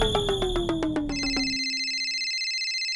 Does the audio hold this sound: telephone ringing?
yes